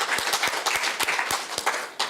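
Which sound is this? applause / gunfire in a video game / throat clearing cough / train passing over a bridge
applause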